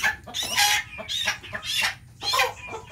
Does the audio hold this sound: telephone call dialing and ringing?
no